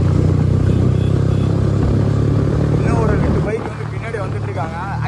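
Motorbike ride on a road toward Kolli Hills, a steady engine drone with wind rumble throughout, while someone talks over it in the second half.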